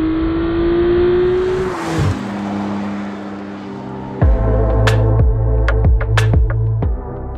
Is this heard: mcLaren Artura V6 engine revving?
yes